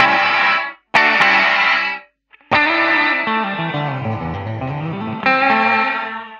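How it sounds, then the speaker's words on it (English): An electric guitar plays distorted chords through an IK Multimedia X-Space pedal's gated reverb, each strum cutting off abruptly with no tail, separated by short silences. "we're going to a gated reverb. So this is a very choppy sounding reverb"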